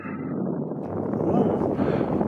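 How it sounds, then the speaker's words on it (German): Strong wind buffeting the microphone on a boat trip back around an island, a loud, steady low rumble that swells slightly partway through. "Jetzt kommt ein ganz schöner Wind"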